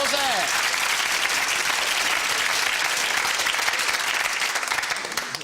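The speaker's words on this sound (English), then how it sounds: "Give yourselves a round of applause" A studio audience at a UK quiz game show bursts into dense, steady applause that fills the whole stretch at full strength, then begins to thin slightly toward the end.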